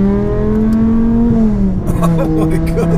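Supercharged 5.2-litre BMW E60 M5 revving hard from inside the car, a loud rising engine howl that dips briefly at a gear change and climbs again, with people talking over it.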